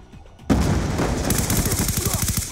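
Sustained automatic gunfire from Call of Duty Black Ops 2, a sudden loud burst of rapid shots that keeps rattling densely, with rhythmic individual cracks toward the end.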